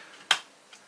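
A 70mai A810 dash cam frame snapping into place: one sharp, close plastic click, followed by a much fainter second tick.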